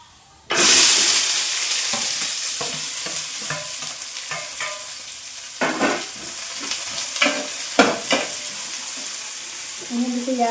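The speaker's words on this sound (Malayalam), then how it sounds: "കുറച്ച് ഉലുവ പൊട്ടുണ്ട്." Fenugreek seeds splutter and sizzle in hot oil in a cooking pan, a loud steady frying hiss with scattered crackles and pops and occasional stirring scrapes throughout.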